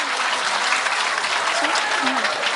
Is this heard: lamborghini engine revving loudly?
no